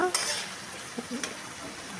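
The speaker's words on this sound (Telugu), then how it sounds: "వేగిన ఉల్లిపాయలు టమాటాల్లో మునక్కాయ ముక్కలు వేసుకొని అవి కూడా పచ్చివాసన పోయేదాకా బాగా వేయించాలి" Drumstick pieces fry with onions and tomatoes in a pan, giving a soft, steady sizzle with a few light stirring scrapes, faint and close with no talking.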